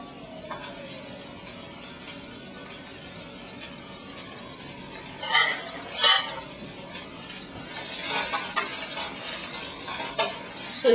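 Uncooked vegetables sizzling in a pan with steady frying hiss, broken by a few louder scrapes and clatters as they are stirred, close by and without speech.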